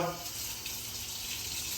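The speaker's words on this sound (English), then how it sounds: "I got the bones in the Instant Pot. And I'm gonna fill it up with water." Water runs steadily from a tap into an Instant Pot holding bones, a continuous close hiss and splash with no talking.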